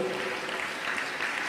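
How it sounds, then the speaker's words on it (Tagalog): A church congregation applauding, a dense steady patter of many hands clapping together, moderately loud and continuous with faint voices mixed in. "Malakas sa palakpak po."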